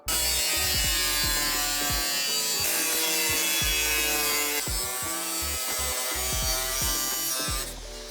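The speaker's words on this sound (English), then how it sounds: "using the power file again to remove the last few millimeters of metal" Loud, continuous grinding of a power file on sheet metal of a BMW E28 floor pan, a harsh buzzing whine that stays steady and close before easing off at the end.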